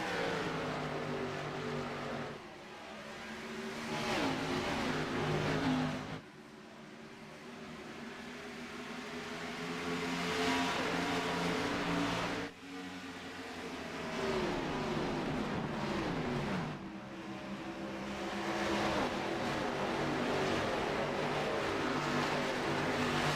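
Xfinity Series stock cars at Darlington roar back to speed on a green-flag restart, engines swelling and fading in waves as packs pass, with sharp drops between passes and a constant distant droning undertone.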